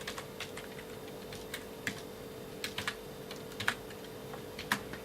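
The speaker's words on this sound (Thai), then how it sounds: "เราจะพิมพ์ ผมพิมพ์ว่า สุขสันต์นะครับ" Steady typing on a computer keyboard, keys clicking in short irregular bursts close up over a low constant hum, with no talk.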